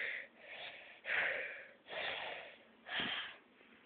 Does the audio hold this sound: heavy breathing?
yes